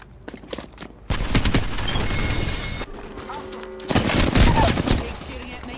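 Gunfire in the video game Apex Legends, with the player's character as Mad Maggie: dense bursts of shots in two loud stretches with a quieter gap between them, and some speech mixed in.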